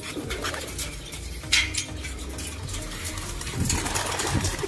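Racing pigeons being released outdoors, with faint cooing and brief bursts of wing flutter over a soft background.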